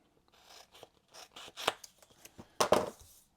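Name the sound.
scissors rough-cutting cardboard game components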